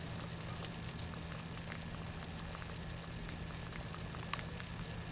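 A light gravy simmers in a pan over a campfire, a steady, quiet bubbling and crackling hiss with scattered soft pops and no talk.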